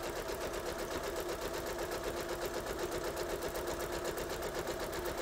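A sewing machine stitches quilt fabric, running steadily with a quick rhythmic mechanical chatter close by and no voices.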